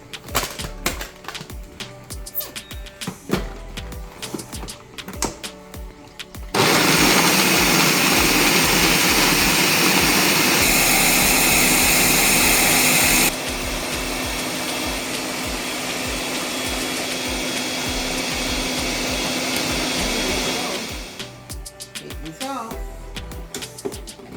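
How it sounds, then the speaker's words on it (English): Kitchen blender whirring loudly as it blends peanut punch, switching on abruptly and running steadily for about fourteen seconds with a drop in pitch midway, with quieter background noise before and after. "She's about to blend it up right now."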